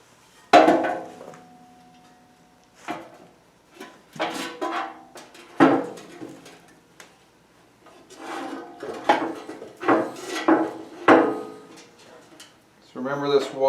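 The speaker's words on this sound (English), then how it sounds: "let's proceed now to lift the auger assembly back into the housing" A Honda HSS1332 snowblower auger assembly is lifted and set back into its metal housing, giving scattered knocks, scrapes and metallic clunks at irregular intervals, close by and moderately loud, with a few brief rubbing sounds between them.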